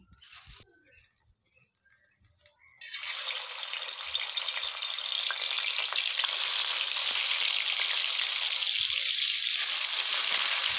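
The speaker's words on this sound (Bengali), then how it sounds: "এবার মাছগুলো ভেজে নেব।" Katla fish pieces dropped into hot oil hiss into a loud, steady sizzle that begins abruptly after a few quiet seconds and continues unbroken, close and with no talking.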